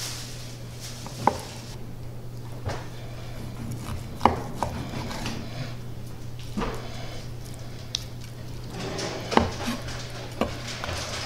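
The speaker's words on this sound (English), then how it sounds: "Let's go ahead and get in here and start slicing" A knife slicing a deboned sous vide steak on a board, with distinct thuds every second or two over a low steady hum.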